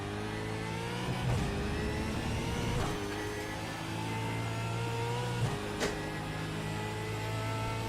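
V8 Supercar engine revving in a racing game: a loud, continuous engine drone that rises and falls with the throttle, with brief gear-shift dips, heard close with no talk.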